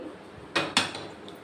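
A frying pan set down on a home kitchen stove before curry leaves are fried, giving two close metallic knocks about a quarter second apart, with quiet room tone around them.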